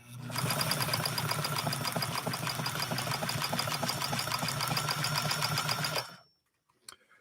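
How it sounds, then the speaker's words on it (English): A vintage post-war Japanese sewing machine fitted with a size 80 Schmetz Universal needle stitches steadily at close range, giving about six seconds of fast, even mechanical ticking and whirring before it stops abruptly, leaving near silence and a faint click. "we're sewing today with a size 80 Schmetz Universal needle"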